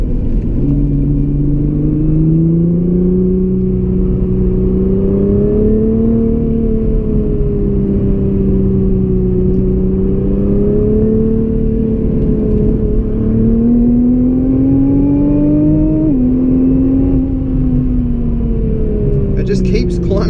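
A 2017 Nissan GT-R pulls hard through its gears on the Great Ocean Road, a loud in-cabin engine drone rising steadily in pitch through each gear, with a brief break at a shift and speech riding over it.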